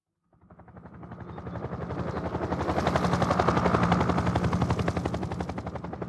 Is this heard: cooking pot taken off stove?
no